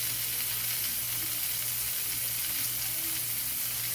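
Pork tenderloin sears in a hot pan, giving a loud, constant close sizzling hiss with no break and a low hum underneath.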